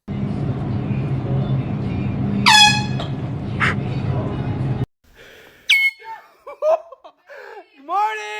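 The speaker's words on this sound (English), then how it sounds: "we're going to start with a favourite among many of you, the air horn pranks" Air horns blare in sharp, loud scare-prank blasts: a long steady one over room noise, then several short piercing honks mixed with startled shouts and laughter.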